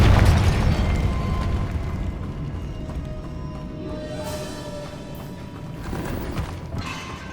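A Confringo fire spell bursts in Hogwarts Legacy, a loud booming explosion up front that rolls into a rumbling decay, with a smaller crackling burst flaring near the end.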